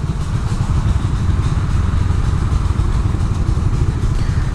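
A fuel-injected Suzuki Satria F150 motorcycle idles close by with a steady, rapid low-pitched engine rumble and faint mechanical clatter, unbroken for several seconds.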